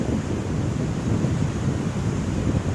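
Strong surf breaking at a shoreline where small fishing boats launch, a steady, loud roar of churning waves and wind buffeting the microphone throughout, with no voices.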